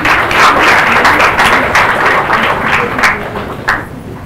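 An audience at a TEDx event claps for a speaker being introduced, a dense round of applause that gradually thins out with a few scattered claps at the end.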